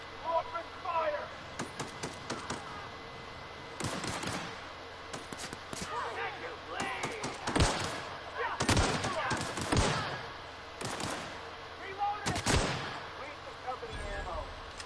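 Gunfire in The Outer Worlds video game, scattered sharp shots and bursts over about fifteen seconds amid background noise, with voices speaking at times.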